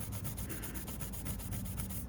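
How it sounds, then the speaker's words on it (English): A Scotch-Brite pad scrubs a brass piece on a fireboard to clean it before silver soldering, a continuous close rubbing with quick rhythmic back-and-forth strokes, moderately loud, with no talking. "I'm still going to use my Scotch-Brite pad to clean it a little bit better."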